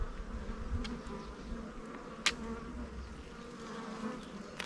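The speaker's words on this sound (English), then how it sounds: "Young fluffy bees," Steady buzzing of honey bees during a backyard beehive inspection, a continuous drone with a brief sharp tick partway through, no talking.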